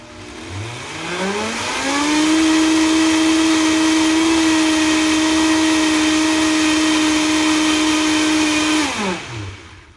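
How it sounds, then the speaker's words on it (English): Blender whirring at high speed through thick apple goop, its motor pitch rising quickly, holding a steady loud whine for several seconds, then winding down at the end. "let's put 10 seconds to go ahead and mix this up at high speed"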